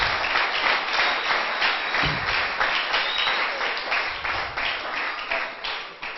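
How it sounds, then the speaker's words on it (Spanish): Worshippers at a church service clap loudly in praise, a sustained burst of many hands that fades gradually toward the end, with no voices over it. "Démosle un aplauso fuerte a Cristo entonces."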